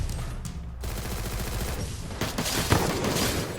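Rapid bursts of automatic gunfire from the Free Fire video game played in first-person FPS mode, dense and loud across the whole stretch with sharp repeated shots and a heavier blast near the end.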